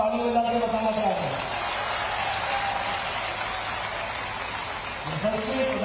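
A crowd at the inauguration of a new building at Madhav Institute of Technology and Science claps in a dense, steady roar lasting several seconds. A speaking voice is heard briefly at the start and again at the end.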